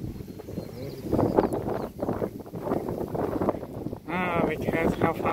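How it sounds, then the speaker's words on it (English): Wind gusting at North Head lighthouse high above the water, a steady rushing roar heavy on the microphone, with people talking over it throughout. "It was getting windy."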